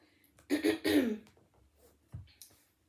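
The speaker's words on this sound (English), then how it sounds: "sorry, I'm going to be clearing my throat" Someone clears their throat twice in quick, harsh bursts close to the mic, followed by a shorter rasp in an otherwise quiet room.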